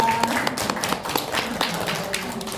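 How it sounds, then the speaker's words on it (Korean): Applause at a literary magazine gathering, a small audience clapping with scattered, distinct claps and light room noise, fairly quiet and brief. "다시 한번 박수 부탁드립니다."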